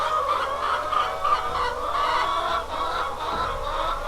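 Several chickens cluck and murmur continuously nearby, a busy overlapping flock chatter at moderate volume.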